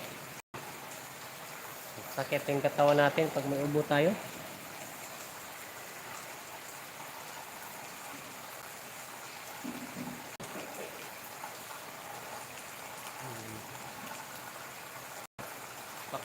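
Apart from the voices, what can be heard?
rain falling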